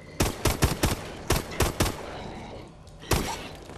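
Gunfire in the video game Call of Duty: Advanced Warfare Exo Zombies, a quick run of loud separate shots in an uneven rhythm, then a pause and one last shot.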